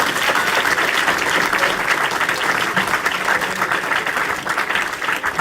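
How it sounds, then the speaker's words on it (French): Loud, sustained applause from a worship congregation, dense and unbroken clapping filling the whole stretch at an even level. "On applaudit Jésus très fort."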